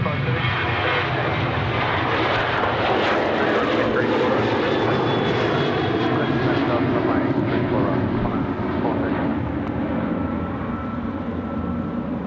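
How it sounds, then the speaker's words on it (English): A Velocity Boeing 737 jet rolls for takeoff on runway 34 right at Sydney Airport, its engine roar loud, broad and continuous, with a spotter talking over it. "we've got a Velocity 737 rolling now, runway 34 right"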